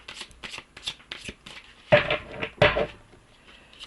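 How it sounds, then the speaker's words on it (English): Tarot cards shuffled by hand in a few quick riffling bursts, the last two loud and close, with softer handling rustles between them. "One more shuffle, just because I really want to make sure they're shuffled really well"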